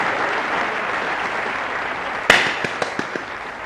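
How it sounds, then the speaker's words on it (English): An audience at a staged show breaks into a dense wash of clapping that fills the room, then thins out into a few scattered, sharper claps near the end. "Everyone give a round of applause."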